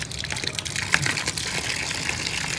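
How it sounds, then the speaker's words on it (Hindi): Cold water from a tap runs steadily into a tray set out for birds during hot weather, a continuous close gushing and splashing flow with no talk. "ये हम खोलते हैं पानी"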